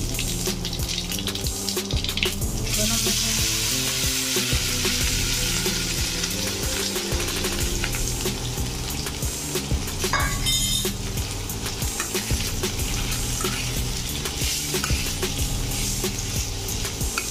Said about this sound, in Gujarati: મેં બે ચમચી તેલ લીધું છે એમાં આપણે રાઈ નાખશું